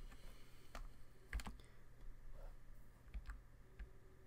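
Computer keyboard key presses while playing a modded Minecraft setup, a few faint, sharp clicks spread across a quiet, low background hum.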